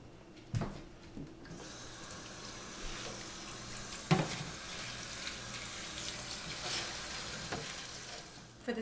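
Running tap water rinsing fresh spinach leaves in a sink, a steady close hiss with occasional clunks and splashes as the leaves are handled, with no voices.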